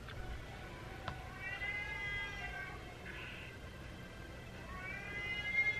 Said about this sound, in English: That's the cats fighting outside.